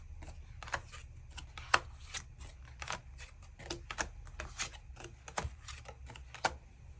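Tarot cards are shuffled and drawn in a quiet room, a run of soft crisp flicks and taps, some sharper snaps, close and fairly faint with no talk.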